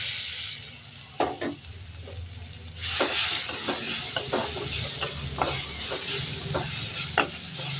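Grated raw mango with turmeric is sautéed in a hot pan, a soft sizzle punctuated by repeated scraping stirs that get busier and louder partway through, close by with no talking.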